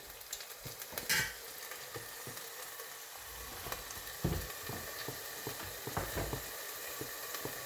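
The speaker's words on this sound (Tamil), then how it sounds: "கொஞ்சம் ரோஸ்ட் ஆகட்டும்" Chopped mutton pieces roast and sizzle in a pan with a steady soft crackle, punctuated by occasional stirring clicks and scrapes, no voices.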